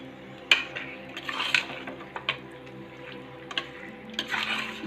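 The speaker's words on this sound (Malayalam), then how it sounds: "നന്നായിട്ടൊന്ന് ഇളക്കാം." A utensil stirring chicken and curry leaves in a pan for chicken curry, with scattered clinks and scrapes of metal against the pan over a faint steady hum, fairly quiet and without speech.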